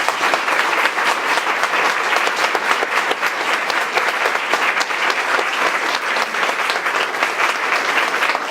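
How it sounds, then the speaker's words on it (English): An anniversary event audience breaks into loud, dense, continuous applause that holds steady for several seconds. "I'd like to have you applaud."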